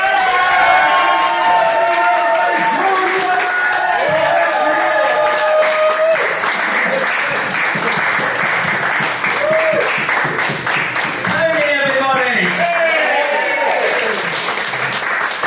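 A large concert crowd cheers, whoops and applauds loudly and continuously, with shouting voices rising throughout.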